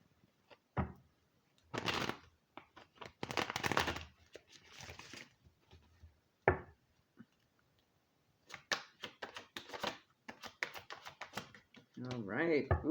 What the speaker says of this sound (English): Get a good shuffle on.